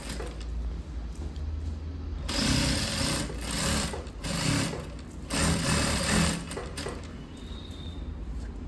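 Sewing machine stitching lining fabric for a chudi, a loud close rapid motor hum that starts after a quieter moment and runs in several bursts with slight pauses between.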